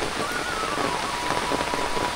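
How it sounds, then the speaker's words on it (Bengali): Sudden rain pours steadily onto surfaces beside a small backyard pond, a dense, even hiss of drops with no break and no voices. "দেখছো কেমন বৃষ্টি?"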